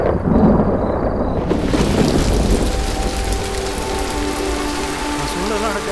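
Heavy rain pounding down during a night storm with deep rumbling thunder, loud and continuous across the whole stretch, with the downpour swelling in after the first moments and no one speaking.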